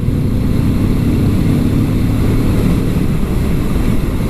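A Kawasaki Vulcan S motorcycle with a Ninja-derived engine rolls on the throttle in top gear at around 4,000 rpm, giving a steady, loud engine drone mixed with heavy wind rush that continues without a break.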